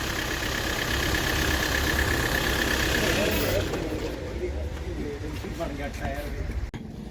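A Hyundai engine idles roughly while misfiring on three cylinders, a steady loud rumble with uneven pulsing, its character shifting partway through as the upper hiss drops away; speech appears to overlap the running engine.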